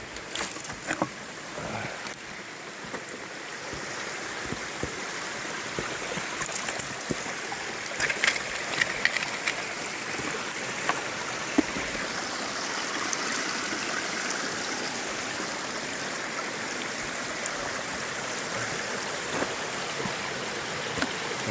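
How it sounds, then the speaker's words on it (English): Creek water flows and babbles steadily over rocks, a constant close rushing with small splashes and trickles and no talk. "I'm a little lower now on the creek."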